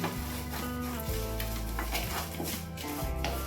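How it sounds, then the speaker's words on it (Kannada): Curry leaves and green chillies frying dry in a pan for a cucumber curry, with no oil added; a steady, close sizzle runs throughout alongside stirring, and a low tonal hum sits underneath. "ಇವೆಲ್ಲ ಕೂಡಿಸಿ ಇನ್ನೊಂದು ಸಲ ಮಿಕ್ಸ್ ಮಾಡಿ ಫ್ರೈ ಮಾಡ್ತೀನಿ"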